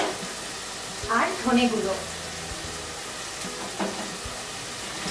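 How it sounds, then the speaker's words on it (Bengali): Ground coriander, turmeric and red chilli powder fry with onion paste for a raw banana curry, giving a soft, steady sizzle with a few stirring scrapes beneath a voice speaking. "সব মশলাগুলো পেঁয়াজ পেস্টের সাথে ভালোভাবে মিশিয়ে কষে নিতে হবে"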